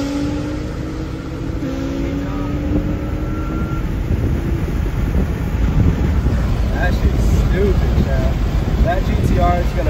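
An Audi R8 supercar fitted with an aftermarket exhaust drives past outdoors, its engine note steady and fairly loud, rising toward the end under heavy wind buffeting on the microphone.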